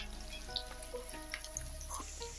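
Chopped onions sizzle in a pan as they fry until light brown, a soft, steady crackle heard faintly beneath a thin background hum.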